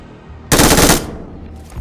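A DP light machine gun fires in the mobile game BGMI at long range: one loud, dense half-second burst of rapid shots that cuts off sharply into a fading echo, with a faint rumble before and after.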